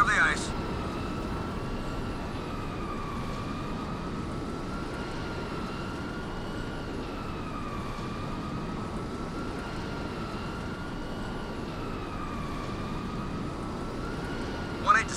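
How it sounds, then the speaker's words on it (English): A VTOL aircraft from the game Crysis Remastered drones steadily overhead, a continuous engine roar with a wavering whine that holds for the whole stretch, with brief sharper bursts at the very start and end. "VTOL extracting wounded in the valley ahead."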